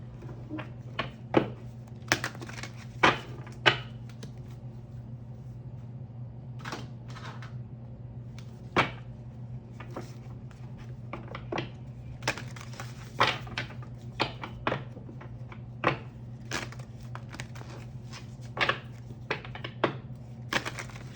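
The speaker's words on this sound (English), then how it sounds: "You guys see me shuffling these cards." Playing cards are shuffled and riffled in irregular bursts of crisp snaps and flutters over a low steady hum, scattered through a long stretch with no talking.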